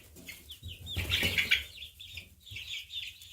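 Baby chicks, including a gray one with feathered feet, chirp and cluck in a soft, busy cluster of calls, with a bright burst of peeping near the middle and more chatter toward the end.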